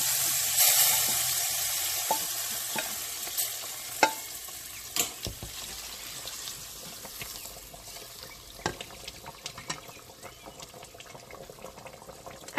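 Cumin seeds and masalas frying for a dumpling kadhi curry, an ongoing sizzle and bubbling with scattered stirring clicks and scrapes over several seconds, moderately quiet, without talk.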